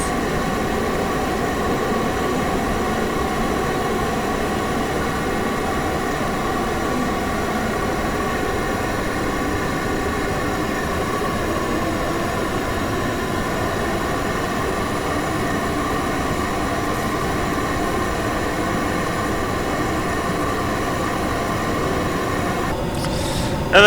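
An aircraft flying in the video game Kerbal Space Program: a steady, even engine drone with a tonal hum and airy rush, unchanging for over twenty seconds before a brief click at the end, no speech.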